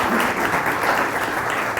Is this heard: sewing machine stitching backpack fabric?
no